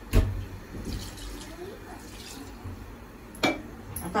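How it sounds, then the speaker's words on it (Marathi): Water poured from a small brass vessel into a cooking pot, a close splashing pour with a sharp clank at the start and another near the end, a soft liquid gurgle continuing in between. "तर बघा अर्धा तांब्या मी पाणी टाकलंय बघा"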